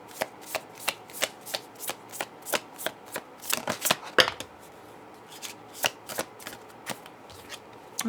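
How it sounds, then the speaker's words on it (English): Animal Apothecary oracle cards are shuffled in a steady riffling rhythm, about a dozen crisp close-up flicks over several seconds with one louder slap in the middle, and no voices. "Very much being called to read more with the Animal Apothecary cards by Cara Elizabeth."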